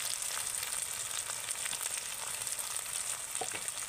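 Chopped tomato and green chillies fry in a pan of ginger-garlic masala for a Bengali fish curry, giving a dense, loud, even sizzle with faint stirring scrapes near the end.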